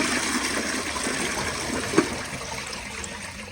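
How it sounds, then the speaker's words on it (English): A Peerless Hancock elongated ADA toilet flushes with a steady rushing of water draining from the bowl, closely miked and continuous, with a single brief clunk partway through. "Here is a flush."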